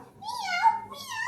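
A child imitates a cat's meow during an animal-sound card game, giving a close, drawn-out falsetto meow followed by a shorter second one.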